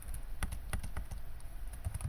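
Rapid, uneven keystrokes clatter on a computer keyboard, close and clear, a steady run of clicks with brief pauses.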